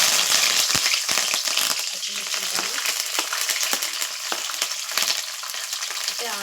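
Curry leaves dropped into hot oil in a pan sizzle and crackle loudly and steadily, with sharp pops and stirring clatter throughout, close up.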